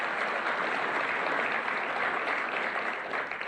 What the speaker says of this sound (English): Let's give them all a big round of applause for all their hard work